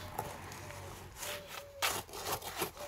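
Concrete mixed by hand without a mixer, rough scraping and grinding strokes of a tool through gritty material in separate bursts, close and fairly faint, with brief quiet gaps between strokes.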